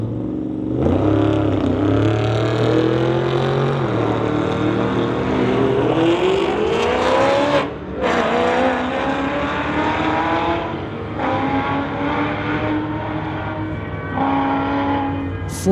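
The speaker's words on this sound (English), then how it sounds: "an old Ford going against a Camaro in the Lordco lane." An old Ford and a Camaro drag racing on a strip, with loud, sustained engine roar and rising revs through gear changes, close and continuous with no talk.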